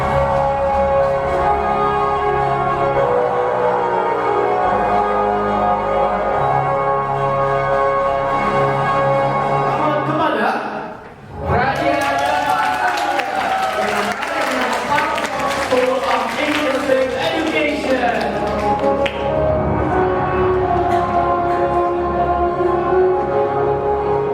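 Audience clapping fills an awards ceremony hall for the SAA Awards XLVI honorees, a steady wash of applause swelling partway through and blending with music playing underneath.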